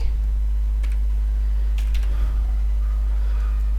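Scattered keyboard clicks over a steady low electrical hum, sparse and irregular rather than continuous typing.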